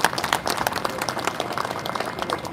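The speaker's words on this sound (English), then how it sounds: "Give them a round of applause." A crowd at a drag racing drivers meeting for the 2021 Long Beach Sprint Nationals applauds, dense steady clapping from many hands at moderate loudness for a few seconds.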